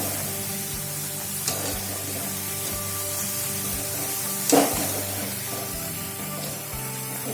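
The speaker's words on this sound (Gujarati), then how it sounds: "તો આ જે ઉપર બબલ્સ થાય છે તે બધા નીચે બેસી જાય એ રીતે આપણે રેફરને તળવાની છે" Thin potato wafers deep-frying in hot oil give a steady, close bubbling sizzle with a few sharp crackles and a brief louder burst partway through, with no talking.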